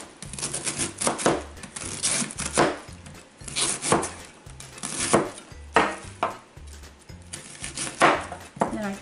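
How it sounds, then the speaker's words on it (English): Knife chopping a cabbage into smaller pieces on a board, a steady run of sharp, close cuts in quick bursts with brief pauses between them. "Then I turn it around the other way and cut it in smaller pieces."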